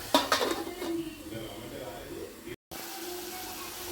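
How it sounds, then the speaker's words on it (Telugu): A lid goes onto a cooking pan with a sharp metallic clatter near the start, followed by a soft kitchen hiss and low background noise. "మగ్గడానికి మూత పెట్టుకుందాం ఒక 2 మినిట్స్."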